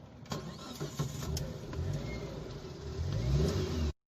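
A first-generation 2009 Suzuki Alto with a 1000cc carbureted engine and manual gearbox cranks and runs, its steady mid-pitched idle swelling into a stronger rev near the end before cutting off abruptly, heard alone with no talk.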